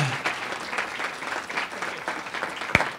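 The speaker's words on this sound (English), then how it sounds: "One more round of applause." Audience applause at the close of an evening higher-education leadership lecture, a steady patter of many hands clapping at moderate distance, with one sharp louder clap near the end.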